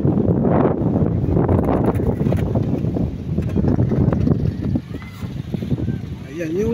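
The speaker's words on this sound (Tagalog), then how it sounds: "sasabayan natin yung lakas ng hangin na yan" Strong wind buffets a small fishing boat at sea, heavy rumbling gusts over the microphone with rushing water beneath, loud and continuous.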